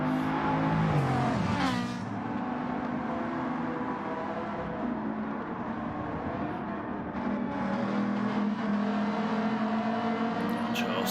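A Bugatti racing car engine in a racing video game at the Red Bull Ring, a steady revving drone with shifting pitch that sweeps around a corner, heard under continuous commentary.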